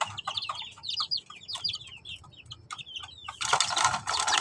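Young chicks chirp in quick, high, overlapping peeps while being given vitamin water, close by, followed by a burst of broadband rustling toward the end.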